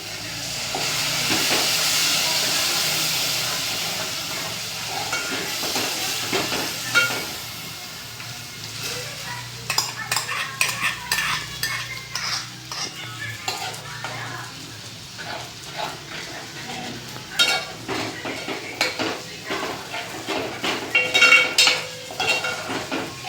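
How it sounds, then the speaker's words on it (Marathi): Puréed tomatoes being stirred into okra masala frying in a pan: a steady hiss of sizzling with frequent scraping and clinking of a spoon against the pan, close and fairly loud throughout. "हे दोन टमाटर तर ते आता मी त्याच्यामध्ये मिक्स करते"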